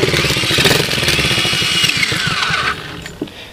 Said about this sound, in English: when I just tickle the starter a little bit